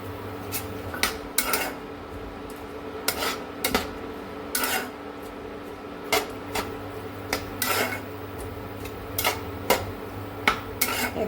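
Chopped spring onion leaves go into a cooking pan, with scattered metallic clinks and scrapes of a utensil against the pan at an irregular rhythm, close by and with no talking.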